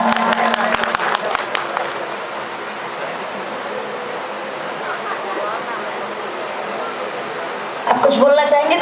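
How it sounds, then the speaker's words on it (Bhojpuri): An audience at the Green Sitara Album Award 2024 show in Varanasi applauds a winner of the best popular female singer award with sustained, dense clapping that stays steady throughout. A voice comes in briefly near the end. "एक बार जोरदार ताली बजाइए"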